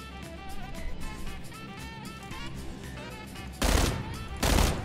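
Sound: gunfire in PlayerUnknown's Battlegrounds video game

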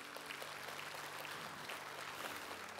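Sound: congregation hand clapping

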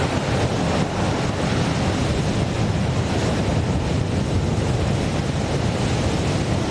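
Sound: rocket launch pad water deluge system

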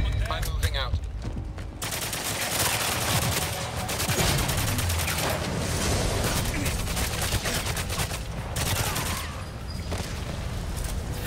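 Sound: gunfire in video game Goldeneye Reloaded

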